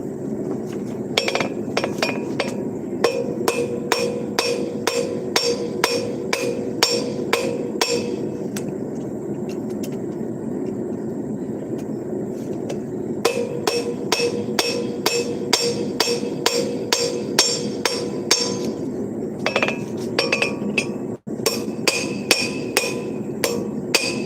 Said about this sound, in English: I just did like a pretty small amount of bevel forging, and it's already curling the tip up.